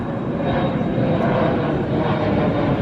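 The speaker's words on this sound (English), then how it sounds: "747 planes, just like the ones that take off here in Wilmington" A steady, broad roar of a Boeing 747 passing overhead near Wilmington, North Carolina fills the air, loud and continuous with no voices.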